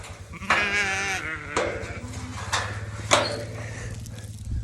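Sheep on a farm bleat several times in a row, close and fairly loud, each call a wavering cry separated by short pauses over a low background drone.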